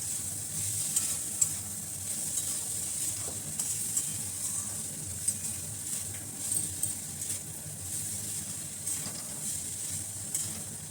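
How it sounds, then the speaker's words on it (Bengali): Garlic and ginger paste fries in a pan with a constant bright hiss close by, while faint stirring scrapes and taps sound now and then. "এবার ভাজা ভাজা হচ্ছে, এবার একটু লঙ্কা গুঁড়ো দিয়ে দেবো।"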